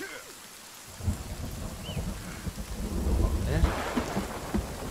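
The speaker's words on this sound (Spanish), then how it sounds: "qué tormenta" Thunderstorm in the survival video game Sons of the Forest: steady rain with a deep rolling thunder rumble building after the first second, swelling near the end, no talk.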